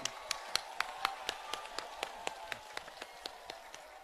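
Sparse, faint clapping at a Mayawati election rally in Buxar, Bihar: a few distinct claps landing in a steady rhythm, thin and distant rather than a full crowd.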